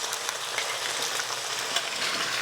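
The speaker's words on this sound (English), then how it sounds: "Frying them up in that good old sausage grease." Protein pancakes made with fresh milled flour and Greek yogurt fry in sausage grease, giving a steady, even sizzle that stays moderately quiet throughout with no talk.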